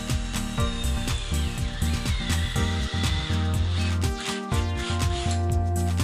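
A power drill whirs loudly in repeated bursts, its pitch dipping and straining as the bit chews through a rubber front suspension bushing from a Toyota Altezza, with brief pauses between runs.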